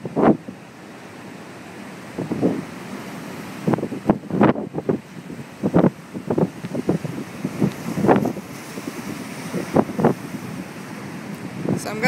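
Gale-force wind from Hurricane Sandy batters the shore of Massachusetts Bay at Scituate, with surf crashing close by. Loud, uneven gusts buffet the microphone in repeated bursts over a constant roar of waves.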